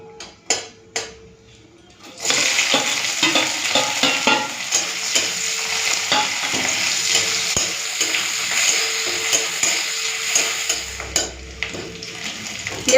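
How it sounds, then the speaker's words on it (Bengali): Dried red chillies sizzle loudly in hot oil, a steady broadband frying hiss starting after a couple of quiet seconds with a few utensil taps, spoon stirring and clinks through the rest. "শুকনো লঙ্কা দিয়ে দিলাম একটুখানি ভাজা ভাজা করে নিই"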